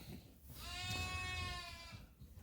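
A pregnant Suffolk ewe lets out one long, wavering bleat at moderate distance, with quiet barn background before and after.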